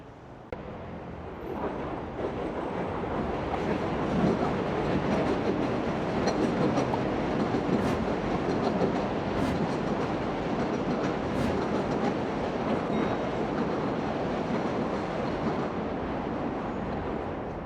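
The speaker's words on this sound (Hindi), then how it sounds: "हर एक मिनट में ट्रेन आ रही है, इतना शोर हो रहा है।" An elevated subway train rumbles past in Jackson Heights, Queens, New York, a steady loud roar of wheels on rails with faint clacking and brief squeals that lasts the whole stretch, with no talking.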